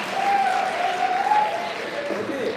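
Applause from a school audience at a poetry recital, a steady sustained clatter of clapping hands that stays fairly loud throughout, with a faint tonal whistle or squeal running under it.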